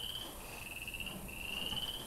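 A frog croaks as a steady, pulsing chirr that carries on without a break for about two seconds over a soft, noisy background, with no one speaking.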